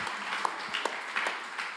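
A university round-table audience gives brief, fairly quiet applause, a soft patter of clapping with a few sharper individual claps and no speech.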